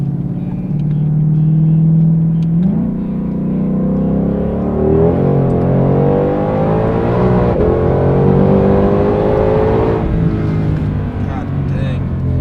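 An EcoBoost-swapped Ford Econoline van pulls hard in second gear, its engine note climbing steadily in pitch over a constant loud rumble, with speech heard briefly in the cabin.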